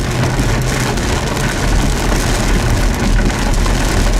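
Heavy storm rain pours steadily on surfaces around a vehicle near Waterloo, a dense, loud, continuous hiss with low rumbling underneath and no voices.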